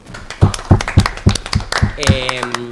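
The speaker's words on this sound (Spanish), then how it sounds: "Un fuerte aplauso." Studio audience clapping at a televised political debate going to a break, several loud distinct claps in a rhythmic pattern, followed by a voice speaking over the end of the clapping.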